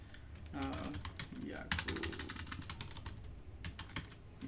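Keys clicking on a computer keyboard as a name is entered at a Linux shell prompt, a steady run of sharp taps with someone talking over the first part.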